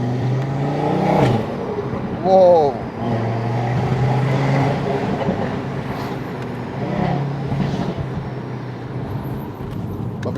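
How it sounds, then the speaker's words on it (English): An Audi RS3 in sport mode, recently rebuilt, drones and revs with its exhaust, crackles and pops breaking through as sharp bursts, while a person reacts with a brief exclamation and a high squeal rises briefly. "I just put the car into sports mode. Let's hear the crackle and pops."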